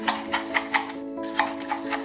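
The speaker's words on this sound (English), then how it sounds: "I'm going to mix it well." Chopped cilantro being stirred into a Bihari dish of bhuja, a spoon scraping and tapping against the pot in a steady, close rhythm of soft clicks over a low hum.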